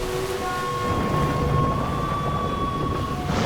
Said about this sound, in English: There are waves crashing over the bow,